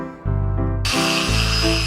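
A handheld power drill whirs loudly and close up, starting with a low hum and rising into a sharp, high-pitched whine, its pitch shifting as the bit bites and the trigger changes speed.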